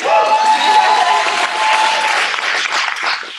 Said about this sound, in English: Clap it up for that awesome story.